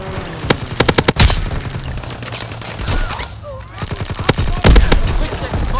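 Strafing-run gunfire in the Call of Duty WWII game: rapid clusters of loud, sharp shots in quick bursts, a pause of rumbling noise, then more heavy volleys with a deep impact near the end.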